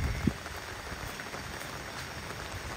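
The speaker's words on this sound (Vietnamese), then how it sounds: "Trời đang mưa rất là nhiều." Heavy rain pours down at a graveside, making a steady dense hiss of drops on the surfaces around, with a single soft thump near the start and no voices.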